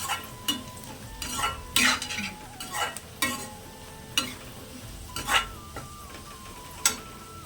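Baby potatoes frying in a pan, stirred with a spoon: a quiet continuous sizzle punctuated by irregular, sharp scraping and clinking strokes against the pan, heard up close.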